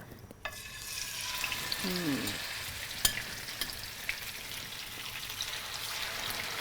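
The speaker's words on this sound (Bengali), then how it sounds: "এখন আমি মাছটা একটু ভেজে নিব" Fish fries lightly in plenty of oil, giving a steady close sizzle with a few scattered pops and one faint brief clink, alone without talk.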